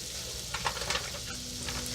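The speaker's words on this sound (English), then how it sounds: "So I'm going to just put a little butter in there." Butter sizzling in a hot frying pan for a seafood and vegetable dinner, a close, steady crackling hiss with faint scraping of stirring.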